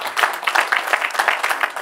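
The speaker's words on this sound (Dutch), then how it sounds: "Mag een applaus voor Hakan, dames en heren." Brief burst of audience applause at a local business event in Venray, steady dense clapping from a crowd throughout, fairly close and even in loudness.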